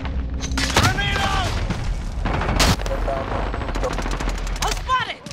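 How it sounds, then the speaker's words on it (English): Gunfire in a Call of Duty Modern Warfare multiplayer match: rapid automatic bursts and sharp single shots with booming impacts, close and loud, under shouted in-game voice callouts. "We've lost ground. Taking fire!"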